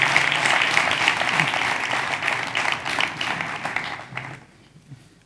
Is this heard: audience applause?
yes